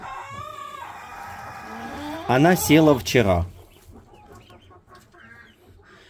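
Small, fluffy, lightweight hens cluck close by in short bursts, with a louder cackling run in the middle, while someone talks over them.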